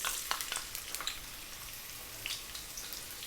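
Chopped onion frying over high heat in sesame oil in a wok, giving a quiet, steady crackling sizzle with scattered little pops and no voices.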